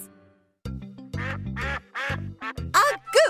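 A goose gives a string of loud, close, nasal quacking honks in short uneven bursts, growing higher and sharper toward the end, alone against a quiet background.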